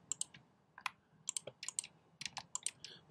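Keys clacking on a computer keyboard in a quiet room, quick irregular bursts of crisp close taps with short pauses between, faint and alone.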